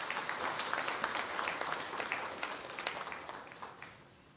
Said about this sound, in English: I think that is also deserving of a round of applause